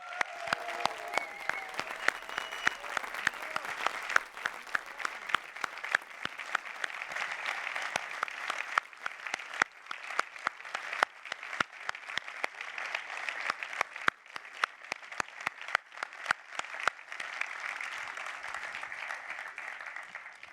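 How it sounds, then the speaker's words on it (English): Warm applause from a seated audience at a live Manitou product keynote, steady dense clapping that keeps going for about twenty seconds at moderate distance with no speech over it. "I suggest we all give them a warm round of applause because they deserve it"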